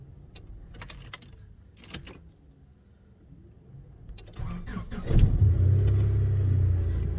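A 1998 Honda Accord engine cranks and catches after faint clattering and quiet movement, then settles into a loud, steady idle that runs to the end.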